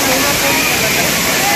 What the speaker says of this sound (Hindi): जहाँ पर झरना ऊपर से गिर रहा है